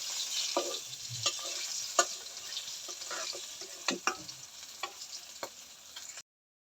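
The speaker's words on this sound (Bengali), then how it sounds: "তাজা মাছ নিয়ে কিন্তু আস্তে আস্তে ভাজতে হয়" Fresh mahseer fish frying slowly in oil, a soft, low sizzle broken by scattered clicks and scrapes of stirring before it cuts off.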